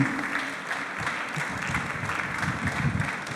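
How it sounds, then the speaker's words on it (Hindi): Sustained applause from an audience at a family day event, steady dense clapping that carries through the whole stretch with no break. "ताली बजाते रहिए"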